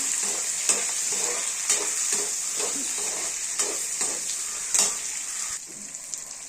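Chopped onions and green chillies fry in hot oil in a pan, a steady bright sizzle broken by about half a dozen scraping stirs of a spoon at roughly one-second intervals, close up with no talking.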